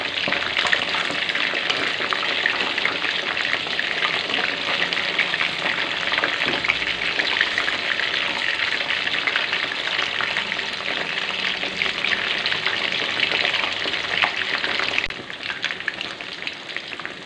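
Pieces of home-style bacem fried chicken crackle and hiss steadily in hot oil in a pan, a loud, dense, continuous sizzle that eases slightly near the end, with no talking.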